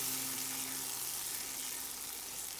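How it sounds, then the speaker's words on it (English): Bread and milk mixture being slowly stirred into aji de gallina sauce, with a soft, steady low sizzle and gentle bubbling that holds evenly throughout, with no talking. "and mix it slowly"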